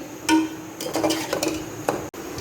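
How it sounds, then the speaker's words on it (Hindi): A spoon scrapes and clinks against a pan as keema and onion are stirred and fried for palak keema, giving a few quick close metallic strokes over a faint background with no talking. "अच्छे से करेंगे कीमे और प्याज की भुनाई"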